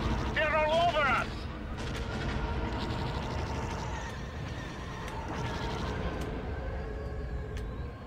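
Heavy blaster fire in the Star Wars Rogue Leader video game on GameCube: a string of sharp crackling shots over a rumbling battle bed, with a voice talking over it throughout.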